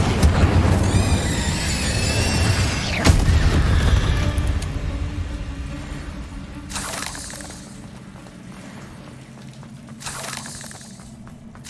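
Incendio fire spell cast in Hogwarts Legacy, a loud fiery burst with crackling that fades into quieter rumbling, followed by two softer whooshing bursts later, with a voice in the opening moments.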